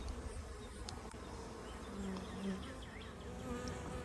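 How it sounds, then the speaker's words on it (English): Honey bee swarm remnants clustered on a tree limb outdoors, a continuous faint buzzing of many insects close by, with no talking. "These are the bees that are left on the tree limb."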